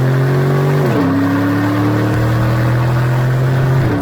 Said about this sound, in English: the V8 absolutely delivers. There's loads of pull low in the rev range, and it keeps delivering the harder you rev it, at which point there's impressive sound.